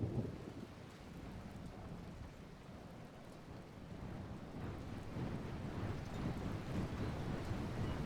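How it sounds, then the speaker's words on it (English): Steady rain falls in the video game LOTR Remastered, a continuous hissing downpour with a low, rumbling, wind-like wash that swells slightly toward the end, heard alone without voices. "That rain is very distracting"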